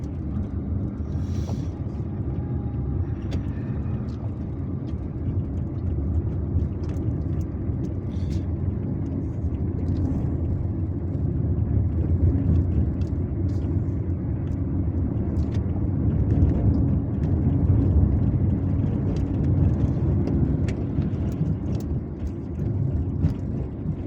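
A car drives through the streets of Algiers, giving a steady, close engine and road rumble with wind noise and no speech throughout.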